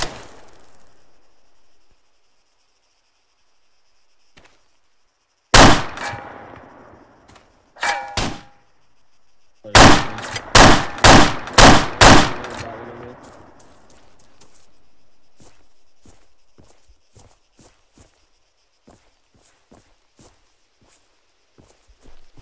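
Gunfire in the Arma 3 video game on an Exile server near a shipping container: one loud close shot, a couple more, then a rapid string of about five shots, followed by fainter scattered cracks and footsteps.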